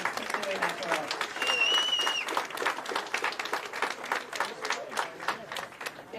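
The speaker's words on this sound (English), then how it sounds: "let's give them a round of applause for doing that for us" An audience at a youth duckpin bowling tournament in a bowling alley claps in a lively round of applause, with scattered cheers and whistles close by and an announcer speaking over the clapping.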